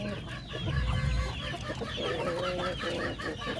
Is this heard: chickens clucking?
yes